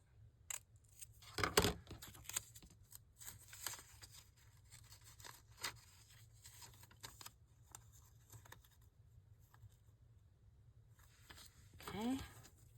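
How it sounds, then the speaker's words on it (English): Paper guest check piece being cut up with scissors for a craft tab, a few short snips and rustles close by, faint and intermittent, with a person talking between them. "another way to use your guest check piece is to go ahead and cut it up here"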